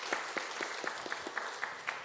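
Church congregation at a Sunday service giving encouraging applause for nursery teachers and volunteers, heard as rhythmic, fairly faint clapping with evenly spaced accents, somewhat distant in a large room.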